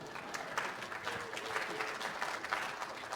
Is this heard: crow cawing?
no